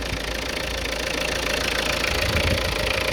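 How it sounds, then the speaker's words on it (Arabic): A turbo diesel car engine idles steadily up close, a dense rumbling drone with a faint knocking texture, rising slightly in the last second, with no voices. "هذا محرك انف دي تي تيربو ديزل"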